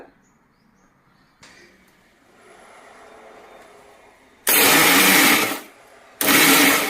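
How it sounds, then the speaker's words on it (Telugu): A mixer grinder blending cucumber and tomato chutney whirs loudly in two bursts, running about a second, stopping briefly, then starting again after quieter background sounds. "ఇవి మిక్సీ పట్టుకుందామండి"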